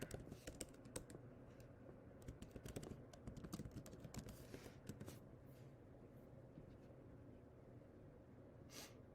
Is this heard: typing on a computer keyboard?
yes